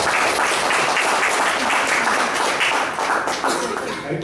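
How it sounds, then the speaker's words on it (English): Dense, steady applause from the audience at a Toastmasters club meeting, many hands clapping together at an even level for several seconds before easing slightly at the end. "You can clap for that"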